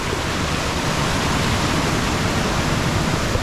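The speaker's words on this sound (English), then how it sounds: "you heard the sound of that waterfall up there?" Kiss Me Waterfall in Georgetown, St. Vincent, running heavy: a dense, constant roar of falling water, loud and close, unbroken throughout with no voices.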